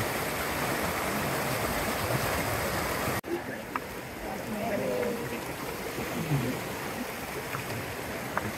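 A river rushes near a two-tiered waterfall in the Lombok jungle, steady and broadband. Louder water gives way to a softer flow mid-way, with faint sounds of movement in the water and a voice beneath it.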